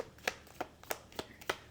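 Tarot cards shuffled by hand in a quiet room, several soft, brief riffles coming in a loose, regular rhythm, close and faint, with no voices.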